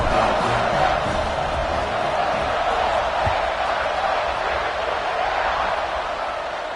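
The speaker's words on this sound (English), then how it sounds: "this crowd is buzzing after that last score" A football stadium crowd roars in a steady, dense wash of cheering and noise after a score, sustained and loud throughout with no clear breaks.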